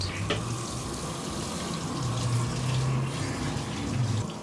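Lukewarm tap water runs steadily while shampoo is rinsed from hair, a continuous moderate splashing stream with no talk over it.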